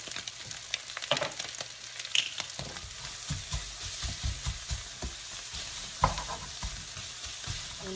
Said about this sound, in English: Saute the onion.